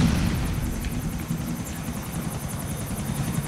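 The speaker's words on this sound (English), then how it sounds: "Is that a helicopter?" A helicopter's rotor chops steadily in a rapid rhythmic beat in the video game GTA IV multiplayer, a continuous loud whirring drone with no talking.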